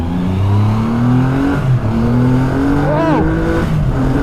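A Triumph Rocket 3 GT with a 2.5 litre, 165 hp engine accelerates on the road, its loud steady drone rising in pitch as it gathers speed, up close.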